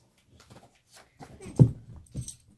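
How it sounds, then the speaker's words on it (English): Puppy whimpering indoors during a bedtime story reading, a few short, soft whines and faint rustles in a quiet room, with the louder cries bunched toward the end. "I have my helper here, my puppy Blue."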